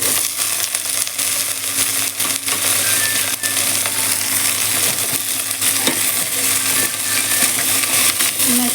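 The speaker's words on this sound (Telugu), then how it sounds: "మునక్కాయలు వేసి బాగా కలపాలి." Drumsticks fried in oil and stirred in a pot while making munakkaya sambar, a steady close sizzle with scraping stir noises and faint clinks throughout.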